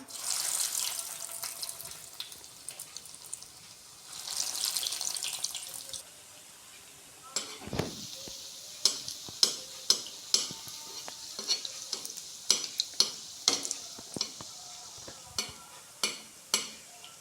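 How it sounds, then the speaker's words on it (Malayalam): A bread veg roll goes into hot oil, and soft frying hiss follows, then a run of sharp intermittent crackles and pops as the roll fries. "അപ്പോൾ ഇവിടെ എണ്ണ ചൂടായി വന്നിട്ടുണ്ട്. അപ്പോൾ നമുക്ക് ഈ റോൾ ഇട്ട് കൊടുക്കാം."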